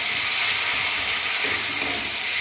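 Mustard paste sizzles in a hot pan as it is stirred, a steady bright hiss with faint scraping, close up and without talk.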